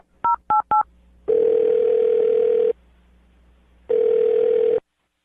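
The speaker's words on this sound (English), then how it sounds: "I'm going to dial her phone number right now" Three quick touch-tone beeps dial out, followed by two long, loud ringback tones separated by a pause.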